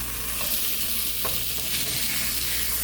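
Salmon steaks frying in a hot pan give off a loud, dense, continuous sizzle, close and steady with faint stirring underneath.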